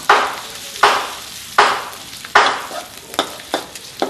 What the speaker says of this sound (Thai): ลูกชิ้นลงไปคั่วทอดแป๊บนึงครับ